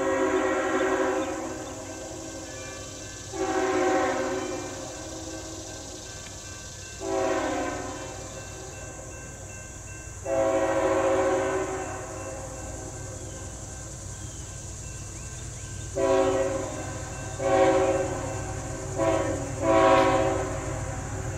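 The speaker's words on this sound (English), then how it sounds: "Got us a train coming at us now." A train on the Keystone Subdivision in Dawson, Pennsylvania rumbles past while its horn blares in repeated long and short blasts at crossings, loud and close, over a steady rolling roar.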